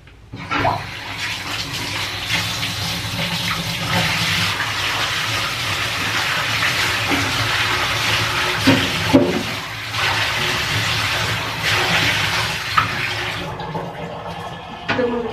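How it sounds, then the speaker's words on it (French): Water runs steadily from a tap in a home bathroom during hair washing, a continuous broadband rush with a few splashes and knocks, close and fairly loud throughout. "Là je vais juste aller me laver les cheveux."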